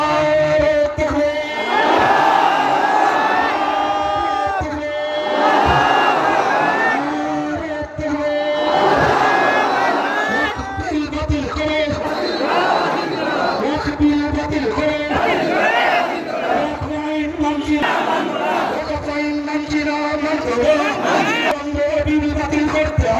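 At a political rally, a large crowd roars back in unison to a Naraye Takbir call, loud chanted shouts repeating in waves with a leader's amplified voice between them.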